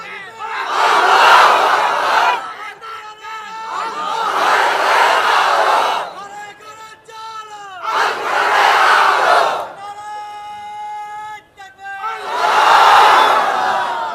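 Young men in a large crowd shout a chant in unison, repeated in several loud bursts, with a voice speaking between them over a loudspeaker.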